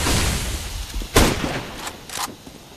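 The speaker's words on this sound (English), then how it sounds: "I'm throwing a flashbang." A flashbang grenade detonates in Counter-Strike: Global Offensive: a sharp, loud broadband burst near the middle, then a second shorter crack shortly after, over steady in-game background noise.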